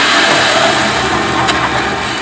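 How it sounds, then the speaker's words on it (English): Giant brewery rollers crushing malted barley grind in a steady, loud, dense rumble, a constant crushing roar without pauses. "That's the sound of the gigantic rollers directly beneath me."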